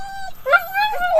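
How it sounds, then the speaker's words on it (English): Dogs whimper and yip close by in a garage, thin high whines rising and falling in quick bursts with a brief bark-like yelp. "Excuse the dogs."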